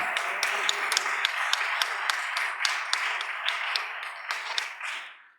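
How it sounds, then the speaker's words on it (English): Applause from an audience for award winners at the 2016 Ray Crenshaw Awards: a close, bright run of rhythmic claps that stays steady and then trails off quickly at the end. "let's give all of our first set of winners another round of applause"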